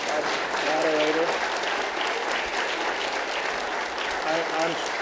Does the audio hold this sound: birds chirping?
no